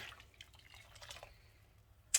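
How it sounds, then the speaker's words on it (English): Water splashes and trickles into a small mug to rinse it after yarn dyeing at a hob, faint irregular drips and pours close by, ending with a sharp bright clink. "I'm just going to use the water to rinse my little mug"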